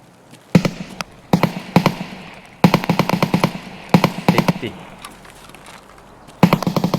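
Bursts of video game gunfire sprayed in all directions, with sharp repeated shots in several quick clusters, loud and close, and speech mixed in between the volleys.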